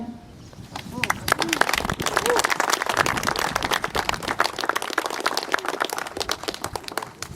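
Outdoor applause at a May 8 commemoration for students after they sing the Marseillaise: a crowd claps steadily and densely for several seconds, close and loud, with a murmur of voices.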